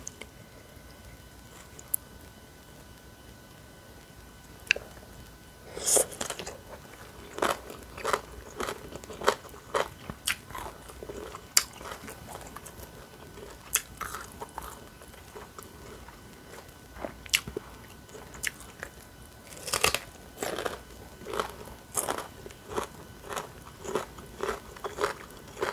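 Crunchy bites and wet chewing of homemade Lao-style papaya salad with fermented fish sauce, eaten with sticky rice, in sporadic close-up bursts with quiet gaps and no talking.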